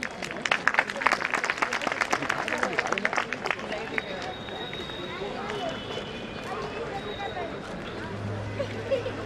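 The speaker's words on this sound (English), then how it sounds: "can we have a round of applause?" An audience at a school Founder Day event gives a round of applause: dense, fairly faint clapping in a brisk flurry that thins out, with crowd murmur and a voice underneath.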